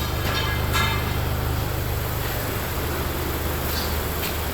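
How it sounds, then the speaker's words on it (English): A Honda Accord idling with a noisy muffler, a rough, steady low rumble from the exhaust, continuous and fairly close with a faint hiss above. "It's just a little noisy muffler"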